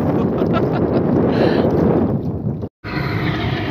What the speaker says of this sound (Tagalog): Lumakas ng hangin.